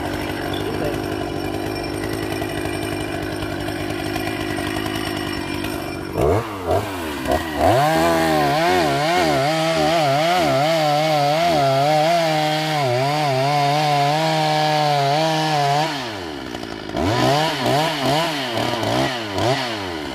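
A chainsaw cuts into giant flame trees, its engine idling roughly and then revving into a loud, sustained whine while cutting, easing briefly before surging again, close and dominant throughout.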